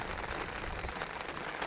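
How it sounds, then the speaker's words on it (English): Steady rain pattering on surfaces beside a fishing lake, a dense continuous hiss of drops, close and even, with no voices. "about 10 past 4, we got rain"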